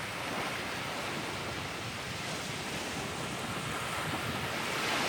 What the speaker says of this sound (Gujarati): પવન છે ને પવન વધારે છે આજમાં